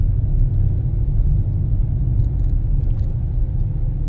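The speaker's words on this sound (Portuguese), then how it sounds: "Caminhão do lixo, recolhendo os lixos aí" A garbage truck collects rubbish on a city street in Meia Praia, Itapema, with a steady, loud low engine rumble running throughout and faint clinks of activity on top.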